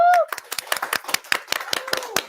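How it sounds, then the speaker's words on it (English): A burst of applause with a crowd cheering, hands clapping steadily and loudly for a couple of seconds. "let's give a huge, huge round of applause"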